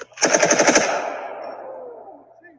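A full-auto Desert Eagle pistol fires at a shooting range: one fast burst of about six loud, close shots, followed by a long echoing tail that fades away.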